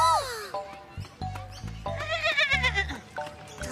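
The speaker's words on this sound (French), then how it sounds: "Trop mignon, un poney." A pony gives a short, high whinny with quavering pitch, heard close and fairly loud amid other cartoon-like sounds and music.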